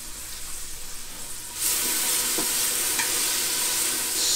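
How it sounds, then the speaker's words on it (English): Sofrito being stirred into rice in an Instant Pot, starting with a quieter hiss that jumps into a loud, close sizzle with scraping stirs that carries on steadily to the end. "And then we're gonna go ahead and stir that in."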